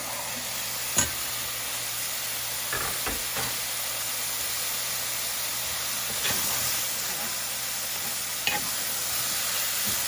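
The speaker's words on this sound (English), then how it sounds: "Now we'll put our mushed garlic." Mashed garlic sizzles in a frying pan holding chicken, spinach and mushrooms for pasta, a constant hissing fry with a few distinct spatula taps and scrapes, near and steady, no talking.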